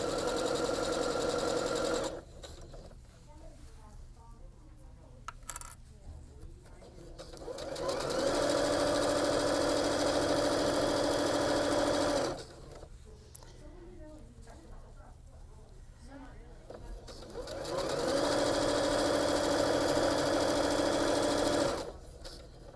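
A sewing machine stitches fabric along the presser-foot edge while sewing a hidden zipper pillow, running in two steady sustained bursts of even mechanical whir, each lasting several seconds, with quieter gaps between where a person talks.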